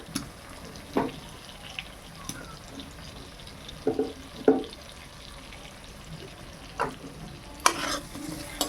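Potatoes added to spiced oil in a pan crackle softly under a low sizzle, with a spoon scraping and knocking against the pan at irregular intervals, close and moderately loud, for potol chingri.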